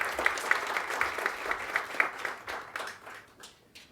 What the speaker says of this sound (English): let's give the General another round of applause, please, for his great work leading One Mind.